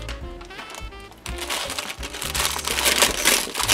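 Packaging crinkles and rustles up close as a package is unwrapped for an unboxing of traveler's notebooks, with irregular crackles that grow louder and busier partway through.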